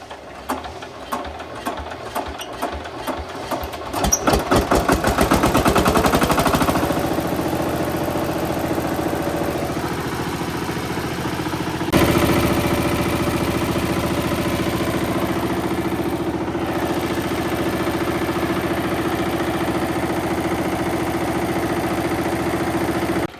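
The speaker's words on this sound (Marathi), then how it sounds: "तू आल्यामुळं ट्रॅक्टर लगेच सुरू झाला" A farm tractor engine is started after being refilled with oil and diesel, cranking in rapid bursts before catching and settling into a steady, loud, close idle that runs on with a continuous mechanical clatter.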